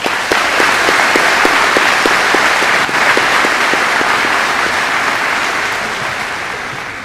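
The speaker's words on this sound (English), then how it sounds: "Please join us in a round of applause." An audience applauds at the 2021 West Holmes High School commencement, with sustained, dense clapping from a large crowd and a few louder, evenly spaced claps standing out. It runs steadily and tapers slightly at the end.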